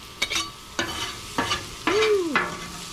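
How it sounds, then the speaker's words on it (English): Shrimp mixed on a hot flat top griddle, a metal spatula scraping and clacking in four or five close strokes over a soft sizzle, with no talking. "I'm just going to mix it together."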